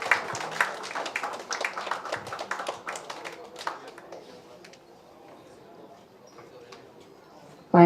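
An audience claps for guests being honoured on stage at a music video promo launch event, a burst of applause that thins out and fades over several seconds into quiet room noise.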